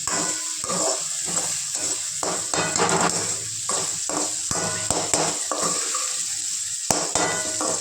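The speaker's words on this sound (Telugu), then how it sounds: "అడుగు అంటకుండా కలయి పెడుతూ ఉండాలి." A drumstick, tomato and mango curry bubbles and sizzles in a pan while it is stirred, with scraping utensil knocks and clinks against the pan under an ongoing frying hiss.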